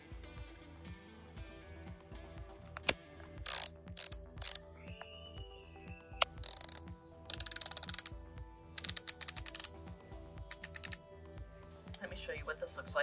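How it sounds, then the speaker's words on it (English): Inside a room, a BOA dial on a Click Medical above-knee prosthetic socket is ratcheted tighter, giving soft rapid clicking runs under a person talking. Several sharper clicks and brief rustles come between the runs. "you press the button and then turn it, and it tightens 1 millimeter at a time"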